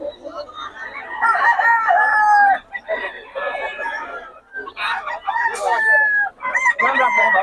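Roosters crow in long, strained calls and hens cluck among the caged fowl at a Bocaue chicken market, with people chatting nearby.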